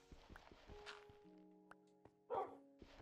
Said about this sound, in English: Oh, doggy. I'm not going to kill you.